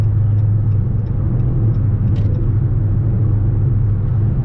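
A Dodge Charger RT cruising with a deep, steady engine rumble heard from inside the cabin, loud and even throughout, with a few faint light ticks above it.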